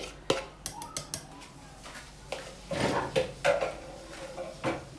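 Raisin cake batter mixed in a bowl, heard as sharp scraping clinks of a utensil against the bowl, a few quick taps early on and then slower, heavier strokes, near and alone without talk.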